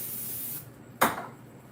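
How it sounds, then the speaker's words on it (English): Cooking spray released from a can onto a lasagna pan over a kitchen sink, one short close hiss that fades quickly, no talk. "And I always spray over the sink because that just keeps it safe in case any of the spray gets on the floor."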